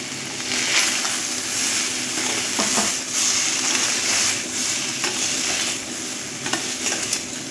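Cooked basmati rice is stir-fried with chicken for fried rice, a steady close sizzle with continuous scraping and tossing stirs, no voices.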